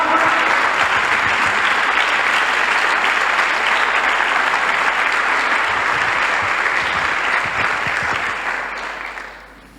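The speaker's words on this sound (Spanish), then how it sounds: "ayúdenme a alabar al Señor con un aplauso" A church congregation claps in praise of the Lord during a Sunday service, loud sustained applause of many hands holding steady for nearly ten seconds before tapering off at the end.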